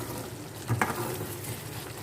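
Onion and yogurt masala for beef bhagari paya roasts in ghee in a pan, giving a steady soft sizzle and crackle with a brief stir-scrape partway through, close and low in level.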